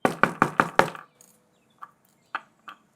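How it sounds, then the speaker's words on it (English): Five quick, loud, evenly spaced knocks on a door, followed by a few fainter, scattered taps after a short pause. "I'm gonna knock a bit louder."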